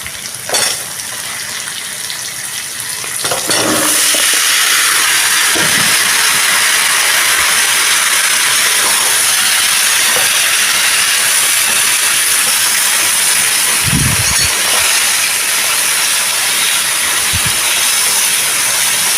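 Vegetables hit a hot pan for a mixed prawn vegetable curry and set off a loud, steady hiss of sizzling and steam. The hiss rises sharply near the start and holds for the rest, with a few faint knocks and no talking.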